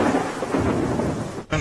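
Heavy monsoon rain pours down in Keshod, Junagadh, Gujarat, with a loud, continuous roar of rain and a rumble of thunder; the sound breaks off briefly near the end.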